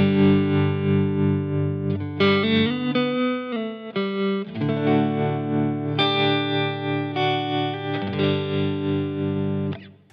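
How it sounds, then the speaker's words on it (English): An electric guitar plays through a Line 6 Helix patch with a tremolo pedal that is not synced to tempo. Loud, sustained chords pulse evenly in volume, with no talking. "just the regular tremolo sounds like this"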